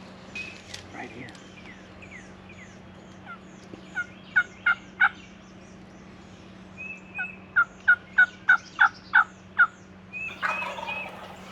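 Wild turkey longbeard gobbling in woods within about seventy yards, several rapid rattling gobble bursts, moderately close and clear over a quiet background with a low hum.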